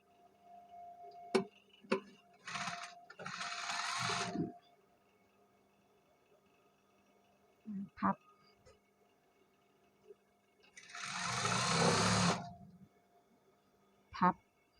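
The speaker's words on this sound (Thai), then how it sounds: "ไปรอบคอเย็บไปรอบคอเลยนะคะพับเข้ามา" A sewing machine stitches around a garment neckline in two short bursts of fast, buzzing whir separated by quiet pauses and small clicks of handling the fabric.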